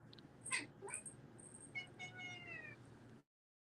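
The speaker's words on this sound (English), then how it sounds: "Goddamn stupid ass cat." A cat meows several times in quick succession, the calls fairly close and clear over a quiet room, with no talking.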